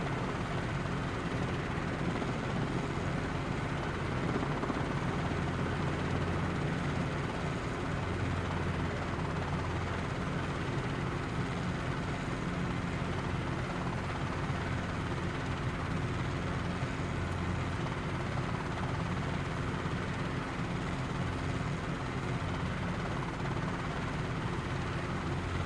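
A helicopter in Microsoft Flight Simulator 2020 drones steadily with a constant rotor and engine roar throughout, even and unbroken.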